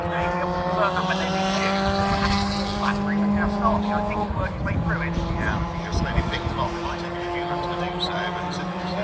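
Race cars, including a Renault and a Peugeot, roaring and whining past on the circuit at Oulton Park, engine notes rising and falling continuously under a commentator's voice.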